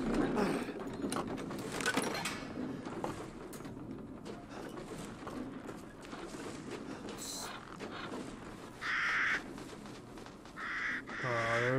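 Crows cawing in the horror game Resident Evil Village, harsh repeated caws rising over a dense, busy game soundscape, with a couple of louder calls near the end.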